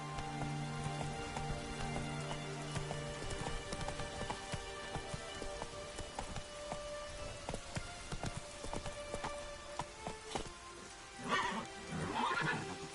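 Roach the horse from The Witcher 3 whinnies amid steady rain pattering on surfaces, with scattered hoof clip-clops and a louder neigh near the end over the constant downpour.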